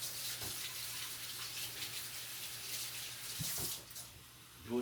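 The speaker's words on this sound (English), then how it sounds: "let me wash my hands" Tap water runs steadily into a sink while hands are washed under it, a close, hissing stream that is faint overall, with a few small splashes and knocks near the end.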